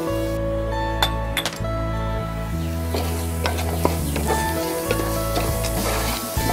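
A pan of red chili powder, coriander powder, turmeric and salt cooking in oil sizzles loudly and steadily, with a spoon stirring and clinking against the metal now and then.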